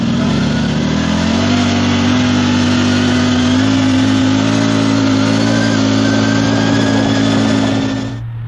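Off-road side-by-side UTV engine accelerating at about three-quarter throttle, a loud steady drone rising in pitch then holding, close up for several seconds before cutting off.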